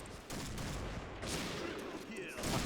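Rapid automatic gunfire from a new weapon in a video game, a dense crackling burst running throughout, moderately loud with a voice talking briefly.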